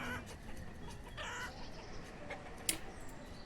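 Chickens cluck in the Banished city-building game: soft, scattered clucks over a steady low in-game ambience, with one short sharp peak near the end.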